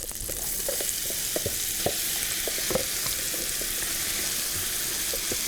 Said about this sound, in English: we're going to saute the vegetables